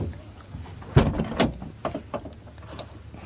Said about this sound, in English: We're going to shut the door and lock it.